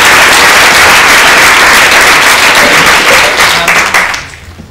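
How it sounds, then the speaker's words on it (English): A crowd claps loudly and steadily, the applause holding for several seconds before thinning out and fading to quiet at the end. "Let's have some applause for"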